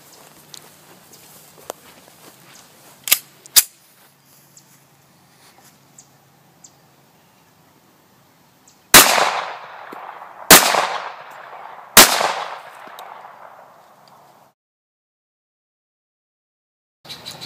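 Three loud, sharp gunshots from a Ruger SR1911 1911 pistol at a shooting range, spaced about a second and a half apart with ringing decay, preceded by a couple of fainter handling clicks.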